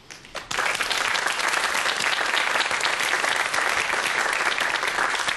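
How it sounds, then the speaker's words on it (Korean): An audience bursts into loud, sustained applause to welcome a lecturer onto the stage, dense clapping that fills the hall after a brief scattered start. "그럼 큰 박수와 함께 강연 청해 듣도록 하겠습니다."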